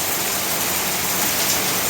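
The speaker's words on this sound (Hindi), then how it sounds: "बहुत तेज़ बारिश हो रही है" Heavy monsoon rain pours down steadily on the last day of Sawan, a dense, continuous broadband hiss close by with no break or voices.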